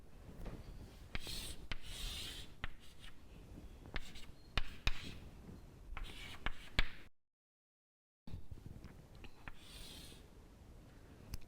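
A pen scratches and rubs across paper or a board while sketching a perfectly inelastic supply curve, close and quiet: short rhythmic strokes with brief taps, broken by a second of silence before the drawing resumes.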